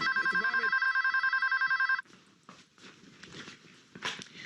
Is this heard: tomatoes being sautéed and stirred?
no